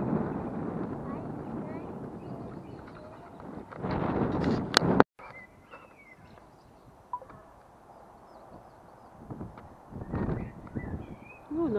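Gusty wind roars across the microphone, strong at first, then dropping off sharply before rising again in bursts, with a voice speaking briefly.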